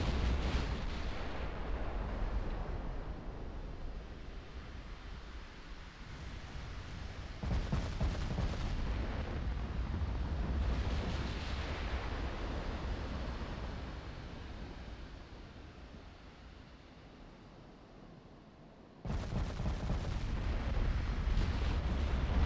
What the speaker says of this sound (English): They're firing HE now. But they don't have a lot of HE shells on board.